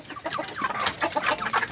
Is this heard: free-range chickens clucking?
yes